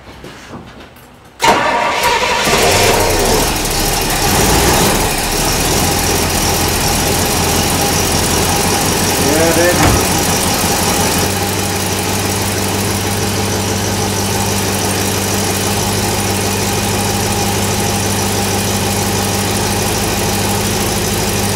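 A Pontiac LeMans with timing out of adjustment cranks and fires up loudly, then settles into a steady, rough idle that runs on alone for about twenty seconds.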